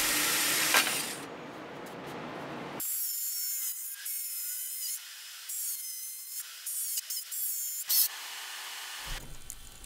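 A hole saw and a jigsaw cut a shape out of a board for an industrial-style loft bed, making a sustained high-pitched cutting whine with stop-start bursts and brief breaks, loud and close, with no talking.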